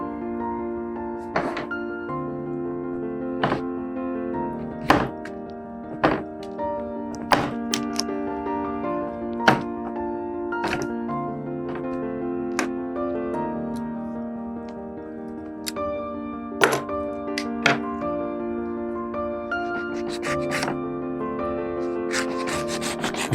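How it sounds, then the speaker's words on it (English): Work on a Suffolk pointe shoe in a workshop as tacks are pulled and excess material is trimmed, giving repeated sharp knocks and clicks over a continuous tonal hum, close and busy. "now we need to remove the tacks and trim off the excess on the shoe"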